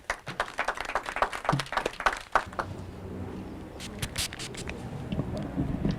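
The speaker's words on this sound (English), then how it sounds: "I think we can give him a better round of applause, kindly." A round of audience applause at a journalists' association launch event in Kenya: scattered claps at first, fading into a softer, steady patter of clapping in a room.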